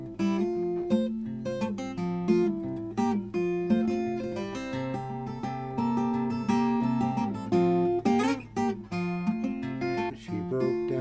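Fingerstyle acoustic guitar with a capo plays a song: a steady, close, ringing pattern of picked notes over a bass line that continues for the whole stretch.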